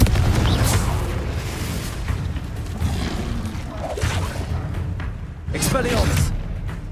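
The Confringo blasting spell in Hogwarts Legacy sets off several heavy booming explosions one after another over constant battle noise, with voices heard in the mix.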